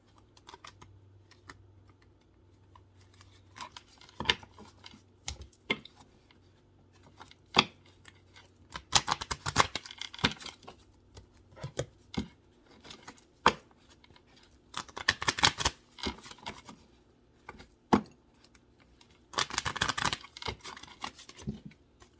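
Tarot cards are shuffled in several quick riffling bursts, separated by sharp taps and pauses, close and fairly quiet.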